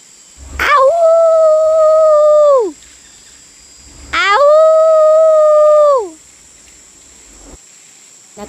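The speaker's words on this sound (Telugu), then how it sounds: "రాత్రి కాగానే నక్కలు అరుస్తూ అడవంతా తిరుగుతున్నాయి." Two long, loud, mournful howls rise and fall one after another, with a quiet gap between them, like jackals calling through a forest at night.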